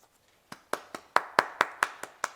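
Hands clap about nine times in a steady, fairly quick rhythm after a short quiet start, the sharp claps close and moderately loud, with no talk over them.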